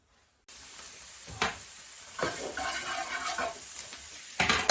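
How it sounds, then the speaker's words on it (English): Mince sizzles and crackles in a hot pan with a little knob of fat, a steady close frying hiss with occasional louder stirring scrapes. "I'm frying the mince up with just a little knob of fat"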